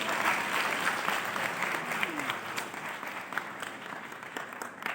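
A congregation applauds to welcome a new bishop at a Catholic diocesan ceremony in Jalpaiguri, dense sustained clapping that gradually thins and tapers over several seconds.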